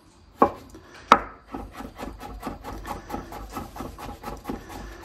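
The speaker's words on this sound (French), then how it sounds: "Et on va tout hacher finement." A knife finely chops ingredients for tartare sauce, including capers, on a cutting board: two sharp opening strikes, then a rapid, even run of close, crisp taps.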